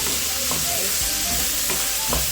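Two kilos of chicken and five onions fry in a pot while a spoon stirs, giving a constant dense sizzle broken by several knocking scrapes, close and fairly loud.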